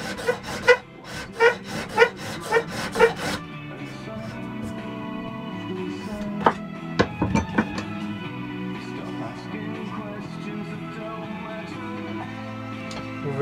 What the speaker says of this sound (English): because as you sand it, contours the whole surface